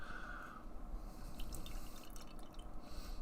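Strawberry lemon fruited sour beer from Drekker Brewing pours into a glass with a steady, close, fizzing liquid splash that runs unbroken for about three seconds, with no talking.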